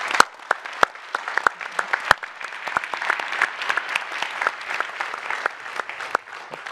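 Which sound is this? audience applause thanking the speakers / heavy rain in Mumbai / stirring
audience applause thanking the speakers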